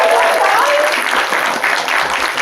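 A crowd applauds loudly and continuously, the clapping dense and even from start to finish.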